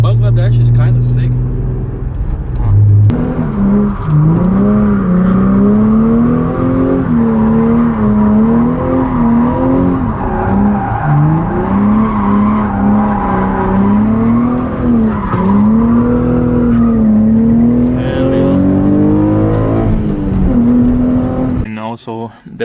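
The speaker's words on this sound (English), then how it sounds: "I haven't slidden this car in a while, so I just want to get some joy out of it." Mazda MX5 driven into a slide, its engine revving hard in a long rising and falling wail with tire squeal throughout, close and loud for about twenty seconds.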